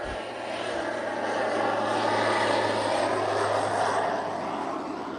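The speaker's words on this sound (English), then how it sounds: "Oh, wow, there's a plane coming in." A fixed-wing airplane coming in to land, its engine roar steady and loud throughout, a broad rushing drone with a low hum, close overhead and with no talk.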